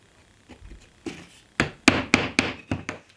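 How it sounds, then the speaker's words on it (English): Wooden dominoes are tapped into plywood rails during a glue-up for a makeup station build, with a series of about eight sharp knocks that start soft and grow louder, coming at an uneven pace close by. "I'm going to start off with putting my dominoes on the rails first."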